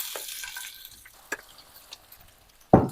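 Faint sizzling in a frying pan with a few small clinks, then a sudden louder burst of hissing as vermicelli hits hot oil.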